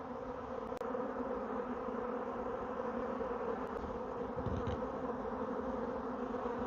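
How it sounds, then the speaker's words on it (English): A swarm of honeybees drones in a steady, dense buzz from many insects close by, continuous and even throughout, with a couple of faint clicks. "See if I can get these guys in these boxes, in a box."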